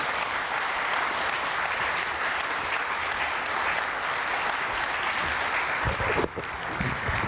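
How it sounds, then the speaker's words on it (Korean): Sustained applause from a forum audience welcoming a healthcare speaker, steady dense clapping throughout that dips briefly near the end before resuming. "큰 박수로 환영해 주시면 좋겠습니다."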